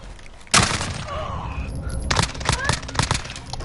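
Shotgun blasts and gunfire in the video game Modern Warfare, sudden loud booming shots starting abruptly and repeating in a rapid, cluttered burst alongside other game noise.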